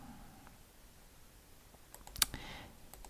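A computer mouse clicking on an OK button in a desktop graphics program, one sharp, close click standing out from a quiet background, followed by a few fainter clicks.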